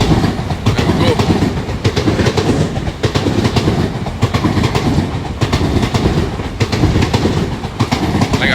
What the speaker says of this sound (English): So there we go, getting a nice train coming through the station.